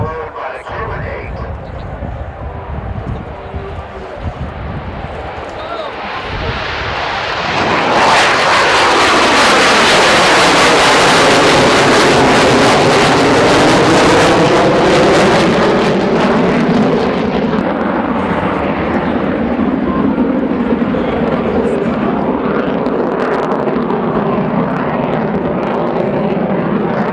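Royal Canadian Air Force CF-18 Hornet fighter jet flies an air show demonstration, its roar swelling from a distant rumble to a loud, sustained blast as it passes overhead, with a crowd and announcer faintly underneath.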